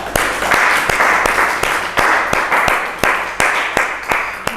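Applause from a small audience after a dental students' ENT simulation lecture, a rhythmic series of sharp individual claps over a dense wash of lighter clapping, steady and close throughout.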